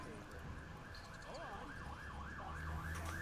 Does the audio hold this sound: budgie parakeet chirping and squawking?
no